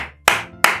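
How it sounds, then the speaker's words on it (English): Two sharp, loud hand claps spaced about a third of a second apart, each with a bright attack and short room decay, alone without talk. "Four big claps for you"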